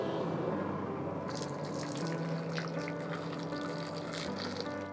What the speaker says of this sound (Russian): И заливаем кипятком.